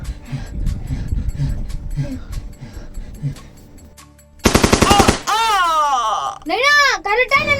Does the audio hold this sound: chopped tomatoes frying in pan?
no